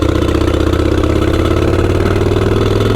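A motorcycle engine runs steadily through a relaxed holiday ride, its loud, continuous mid-to-low rumble constant throughout with no voices.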